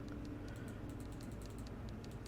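Typing on a computer keyboard in the Nancy Drew: Treasure in the Royal Tower video game, a quick run of light key clicks over a low steady hum, faint and without talk.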